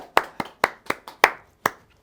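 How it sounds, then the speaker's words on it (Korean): Six or seven sharp hand claps, close and distinct, spaced at a brisk uneven rhythm and standing alone without voices. "자, 박수."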